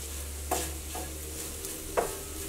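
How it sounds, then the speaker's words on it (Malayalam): Chili powder and masala sizzle in a hot pan while being stirred for a chicken dish, with a low steady frying hiss under a few sharp scrapes of the spoon against the pan. "മുളക് പൊടി പെട്ടെന്ന് അങ്ങോട്ട് മുരിയും, കാരണം ഈ മസാലയൊക്കെ ഇപ്പോൾ നന്നായിട്ട് ചൂടായിട്ടാണല്ലോ ഇരിക്കുന്നത്."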